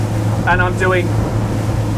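An Axopar 28 T-top Brabus Edition motorboat cruising at about 28 knots, its steady engine drone and water noise running throughout while someone talks over it.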